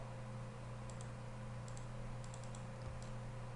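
Computer keyboard keys pressed in small clusters of light clicks during CAD software work, heard faintly over a steady low electrical hum, with no voices.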